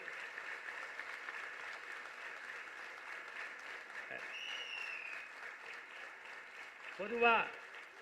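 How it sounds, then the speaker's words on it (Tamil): Applause from the audience at an election campaign rally in Central Chennai, heard as a steady, fairly faint wash of clapping over about eight seconds, with a brief burst of louder noise near the end. "கைத்தட்டு பத்தாது"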